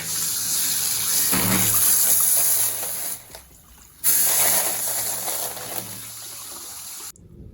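Water runs from a leaking test tube setup as a loud, continuous gushing flow. It drops away briefly partway through, surges back, then cuts off abruptly near the end, with no talking.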